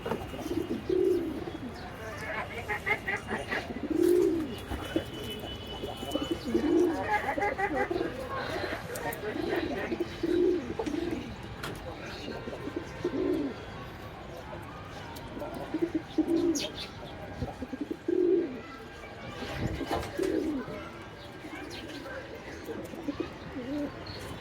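Pigeons in a pigeon house coo repeatedly in soft rhythmic phrases, with occasional chirps and wing rustles, while a person talks over them.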